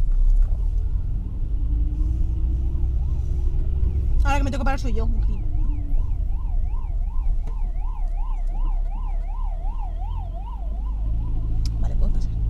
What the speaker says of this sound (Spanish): Vale, ya estoy viendo, es un coche de policía.